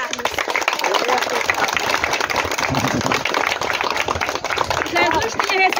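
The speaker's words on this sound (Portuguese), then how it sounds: "Vamos pedir uma salva de palmas para Antônio Carlos." Dense crowd clapping at a horseback ride gathering, a steady wash of applause with voices talking over it throughout.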